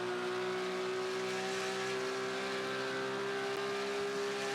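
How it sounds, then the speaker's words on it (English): A strained Porsche flat-six race engine holds a steady, loud, high drone in a digital Nürburgring endurance race, sustained at near-constant revs with no shifts or talk. "Unmistakable sound of a tortured flat six Porsche engine"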